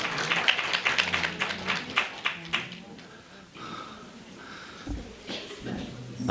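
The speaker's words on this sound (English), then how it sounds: "Yes, let's give an applause to the conference" A conference audience gives brief scattered applause, quick claps for a couple of seconds that fade out, followed by room noise and speech.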